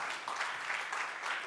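Audience applause at a startup pitch event on a founders stage, a steady dense patter of many hands clapping throughout, moderately loud and with no talk over it.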